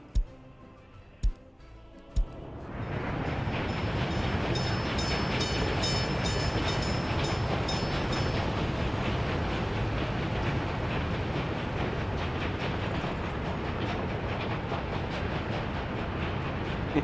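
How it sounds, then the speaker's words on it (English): A train sets off and runs in the Workers and Resources video game: a few sharp clicks, then a loud, steady rail rumble with fine ticking and clatter that holds without a break. "Oh, here I can launch the train."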